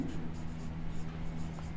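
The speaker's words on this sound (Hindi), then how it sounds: "यहाँ लिख लेते हैं" A math solution is written out by hand, with a faint, steady scratch of pen or chalk strokes and a low hum underneath.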